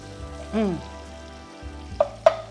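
Fatty guanciale crackles in a hot pan under a low steady hum, with a couple of sharper pops near the end.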